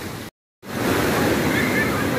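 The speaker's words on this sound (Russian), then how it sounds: "И волны тебя окутывают." Ocean waves breaking on a beach at Miraflores, a loud, close, steady wash of surf noise that drops out briefly near the start and then returns as a full roar.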